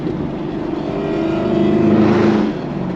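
A Nissan GT-R with a full body kit drives past with a steady, droning engine roar that swells and fades at a moderate distance, with no talking over it.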